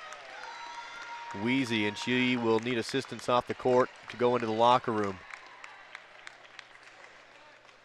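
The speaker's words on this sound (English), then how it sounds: "And applause here for Lau as she's helped to her feet." Crowd applause in a gym for an injured player being helped up during a girls' high school state tournament basketball game, a light wash of clapping beneath a commentator's clear speech.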